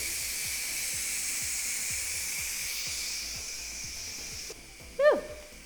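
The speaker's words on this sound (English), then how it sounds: "I'm going to go ahead and release the steam." Steady, loud hissing of steam escaping under pressure from a pressure cooker, then it cuts off and a short squeal follows.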